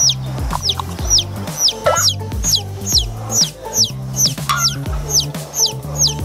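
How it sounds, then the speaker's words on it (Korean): Chick peeps on a lawn ring out in a repeating series of high, downward-sliding chirps, about a dozen in quick succession, loud and close over a low steady background. "병아리는 잔디밭 위에서 하루 종일 비약거린다"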